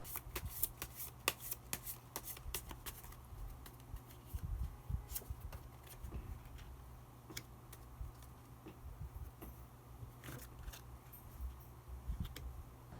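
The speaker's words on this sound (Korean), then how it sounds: "마지막으로 마법사 카드 한 장 더 뽑아보도록 하겠습니다" Tarot cards shuffled by hand in a steady run of soft riffling and flicking, with small taps and a low steady hum underneath, no talking.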